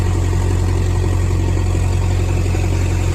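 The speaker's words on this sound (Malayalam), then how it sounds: "നമ്മൾ JCB പിടിച്ചിട്ടാണ് വള്ളം കടലിലേക്ക് ഇറക്കുന്നത്" A JCB excavator's diesel engine runs loud and close with a steady, deep idling drone while it pushes a wooden fishing boat into the sea from the beach.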